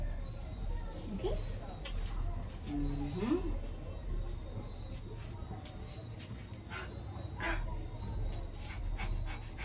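A person imitates a dog for an animal-guessing game with a child, giving a few short whimpering and barking vocal sounds amid a quiet room with low background noise.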